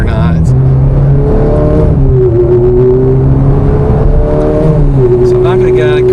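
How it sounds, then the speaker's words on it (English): A 2007 Ferrari F430 Spider engine revs under throttle on a damp road, its loud, close harmonic note rising and falling through several steady pulls and shifts, with no break across the whole stretch. "valves open instantaneously as soon as you give it more than a little bit of throttle"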